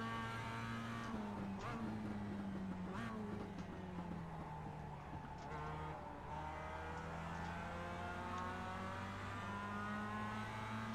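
Mazda Cup race cars at Daytona in the iRacing sim drone in first gear, several engine notes layered in a steady, buzzing whine that shifts pitch slightly as the cars run together.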